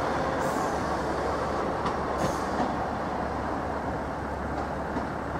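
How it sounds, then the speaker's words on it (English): A one-coach train rumbles steadily as it pulls away from Norwich Station, a constant low roar with faint rail clatter and a brief squeal partway through. No voices. "No surprise really when it's a one coach train working an evening peak service. Off it goes."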